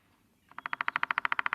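A woodpecker, likely a White-headed Woodpecker of western coniferous forest, drums in a steady burst of about fifteen evenly spaced taps at a slow, even cadence, clear against quiet surroundings.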